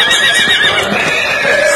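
A horse whinnies loudly at a rural Toro de Once bull festival in Zirándaro, the neigh carrying over a busy outdoor crowd with faint hoof clip-clops beneath.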